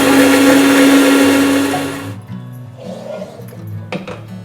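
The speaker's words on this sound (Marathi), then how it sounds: "हे आता ही मिरची वाटून घ्यायची मिक्सर मधून ना." A kitchen mixer grinder whirs loudly grinding green chillies with garlic and cumin, a steady high roar for about two seconds before it stops, leaving quieter clatter and handling noises.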